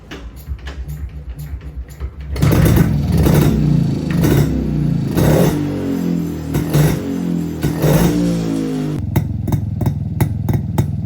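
A smoking 250cc two-stroke Yezdi Roadking motorcycle ticks over quietly, then is revved hard and loud nearby in repeated rising and falling surges before dropping back to a rattly idle.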